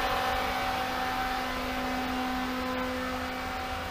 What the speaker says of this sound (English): watch as we turn up the RPM further. Listen to the sound of the motor.